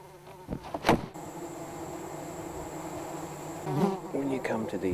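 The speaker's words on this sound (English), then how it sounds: "a lot of them are absolutely covered in these yellow bees" A swarm of yellow bees buzzes steadily on a jungle sandbank in Guyana, a dense, continuous drone close by with a few louder passes of individual insects near the mic.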